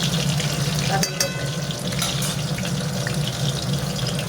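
Chicken frying in a pan, a steady broadband sizzle that runs continuously at close range, with a brief clatter near the start and no talking over it.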